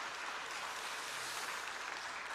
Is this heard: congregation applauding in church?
yes